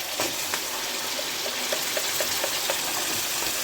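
Spices hit hot ghee alongside capsicum in a pan, making a steady, dense sizzle with faint crackles and soft pops throughout, heard without any talk.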